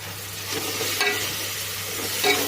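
Mint leaves frying with ginger-garlic paste in a pan, with a steady close sizzle and a few spatula scrapes and stirring knocks.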